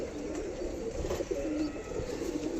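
A jira male pigeon coos close up in a series of low, rolling calls, steady and moderately loud, with faint background noise and no talk.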